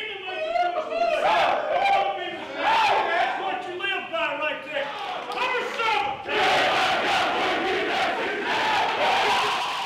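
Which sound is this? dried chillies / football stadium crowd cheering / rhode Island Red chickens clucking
football stadium crowd cheering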